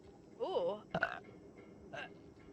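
A close burp from a woman streaming, a short voiced croak with wavering pitch followed by a couple of smaller guttural sounds, over faint background noise.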